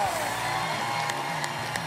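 A studio audience at a comedy festival show claps and cheers for a Colombian comedian, a broad wash of crowd noise with whoops and speech mixed in, sustained for a couple of seconds.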